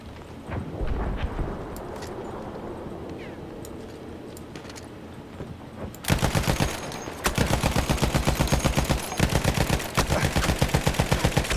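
Battlefield 1 multiplayer gunfire: scattered distant shots and rumbling explosions at first, then loud, rapid automatic fire bursting in sustained rhythmic volleys close by, with a faint voice underneath.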